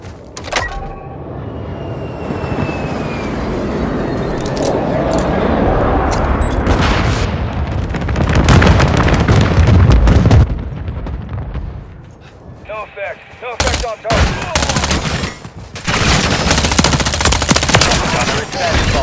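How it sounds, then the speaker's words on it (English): Explosions from a bombing run and bursts of gunfire rumble and crack through a Call of Duty: Modern Warfare III battle in frozen cold, loud and dense, with radio voices talking over the chaos and a brief lull partway through. "Inbound for bombing run"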